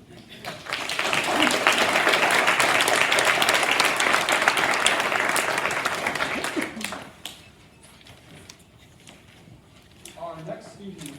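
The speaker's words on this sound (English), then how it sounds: "So everybody round of applause for" Loud audience applause at a school board meeting swells for several seconds, then tapers into scattered claps and faint murmuring.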